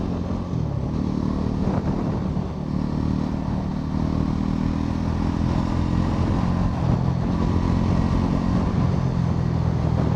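A 2025 Bajaj Pulsar NS 400Z motorcycle cruising at about 80 km/h, a loud continuous engine drone blended with heavy wind rush from the rider's position, steady throughout with no speech.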